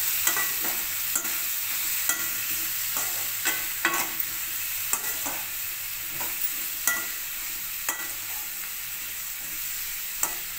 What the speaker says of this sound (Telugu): చూడండి ఫ్రెండ్స్, ఫ్రై అవుతున్నాయి కదా